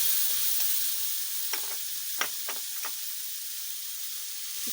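Spices frying in oil in a pan for a mushroom dish, with a soft steady sizzle and a few sharper crackles and pops in the middle, heard alone and close.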